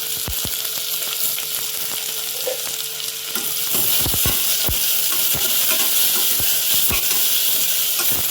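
Ginger-garlic paste hitting hot oil in a pan for chicken pulao, a loud continuous sizzle that intensifies partway through, punctuated by sharp spatula taps and scrapes against the pan.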